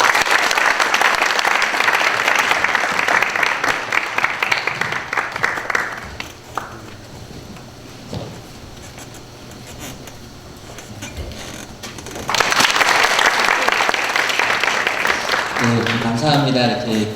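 Audience applause welcoming a pastor on stage at a church concert event: loud crowd clapping for several seconds, a quieter gap with scattered sounds, then a second strong burst of clapping, with a voice starting at the very end.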